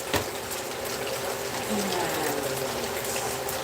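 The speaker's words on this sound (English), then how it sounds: "Let's put a little more olive oil in there." Olive oil poured into a pot of spaghetti water, a steady liquid rush and bubbling that fills the whole moment, with a brief spoken word over it.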